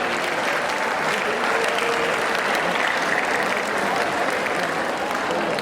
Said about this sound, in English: You have to give a big applause to Mujtaba.